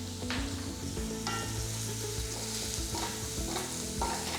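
Sliced onion with a pinch of salt fries in oil and ghee for ghee rice, a dense, steady sizzle with stirring scrapes and occasional clinks close by.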